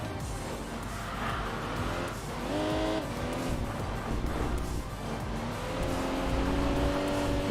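An Infiniti G35 race car in the racing game Enthusia drives under a loud, constant engine roar, with rising and falling gear tones and tire squeal as it slides through corners.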